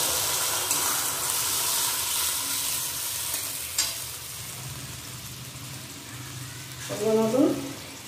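A splash of water hits a ground paste of ginger, green chili, garlic and onion frying in a pan, giving a hissing sizzle that fades as the paste is stirred, with a few scraping clinks near the end.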